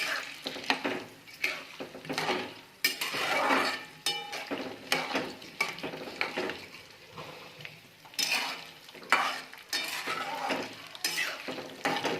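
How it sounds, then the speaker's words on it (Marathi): Curry leaf chutney ingredients (lentils, coconut, peanuts, garlic) sizzling in hot oil while a utensil stirs and scrapes the pan in irregular bursts, close up, with no talking. "सर्व साहित्य टाकून तळून घ्यायचे आहे"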